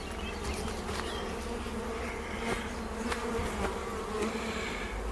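Dense, steady buzzing of a large honeybee swarm clustered on a tree limb, loud and close, continuous with no talking.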